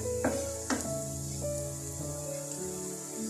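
Cashews fry in a pan with a constant crackling sizzle, joined by a couple of stirring scrapes early on and a faint ringing tone beneath, close and steady.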